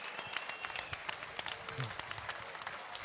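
Crowd at a local fight night applauds in a continuous, fairly distant wash of clapping with scattered sharper claps.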